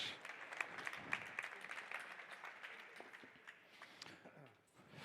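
Soft applause from an audience at a university semester project kick-off, scattered clapping heard faintly and at a distance, thinning out toward the end.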